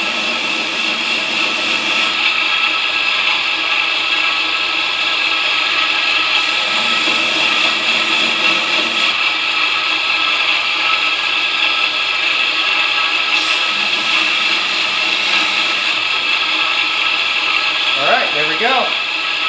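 A grinder works a steel knife blade during stock removal, a steady loud mechanical whine and hiss with a constant high tone that shifts slightly as contact changes, with a few brief fluttering scrapes near the end.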